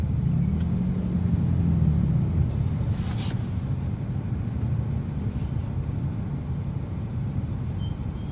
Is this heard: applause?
no